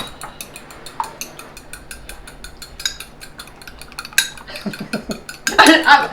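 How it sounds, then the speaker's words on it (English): A fork clinks and scrapes against a bowl while an egg is beaten, with light rhythmic taps growing louder and busier toward the end, under faint background talk. "Yes, beat an egg up."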